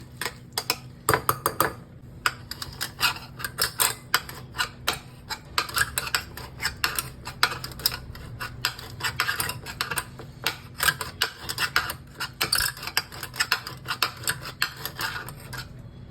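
Cooked urad dal mashed in a pot with a metal utensil, giving a steady run of close, sharp clinks and scrapes against the pot in an irregular rhythm, with no voices.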